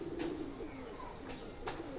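A green-necked male pigeon coos in soft, repeated rolling calls, fairly faint against a steady hiss of background noise.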